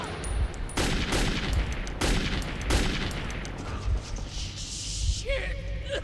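Gunfire in the Metro 2033 video game, several sharp bursts of shots in quick succession followed by mechanical clatter and a brief ringing tone, moderately loud with a faint voice in the background.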